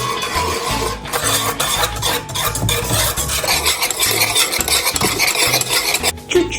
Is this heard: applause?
no